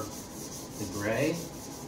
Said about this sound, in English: You want to keep your sandpaper pretty wet because eventually you'll start getting the sanding dust here